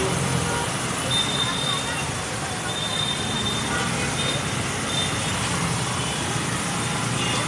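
Evening road traffic in Indore near a metro construction site, a dense steady roar of cars, buses and trucks with a faint high whine and crowd murmur, loud throughout with someone talking over it.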